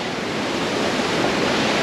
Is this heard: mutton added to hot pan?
no